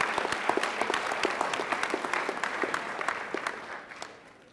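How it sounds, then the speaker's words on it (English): A fall commencement audience of graduates, faculty and families claps together in a steady, full round of applause that gradually tapers off toward the end. "give yourselves a round of applause for making sure that you got everyone to this stage."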